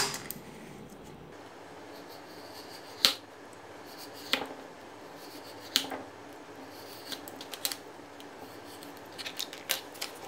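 Scissors cutting a shoe insole along a marked line, close crisp snips repeated every second or so and growing more frequent toward the end, alone over a faint background.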